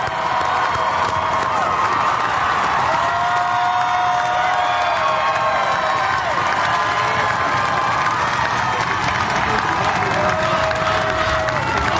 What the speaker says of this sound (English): That is the crowd you're hearing, not static.